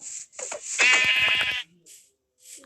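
A sheep bleats loudly up close, a long wavering cry after a couple of short calls, followed by fainter background noises.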